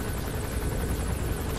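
Helicopter rotor chop passing overhead in the video game Metal Gear Solid V, a continuous rapid thudding and broad whooshing noise, steady and fairly loud, no voices.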